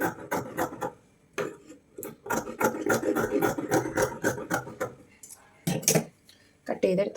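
Scissors cut through folded fabric for an umbrella frock, giving crisp snipping and rubbing sounds in quick bursts, close and fairly loud, mixed with a person talking.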